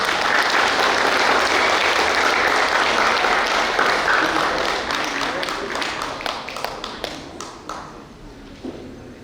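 An audience at a prize ceremony gives loud, full applause that holds steady, then breaks into scattered individual claps and dies away toward the end.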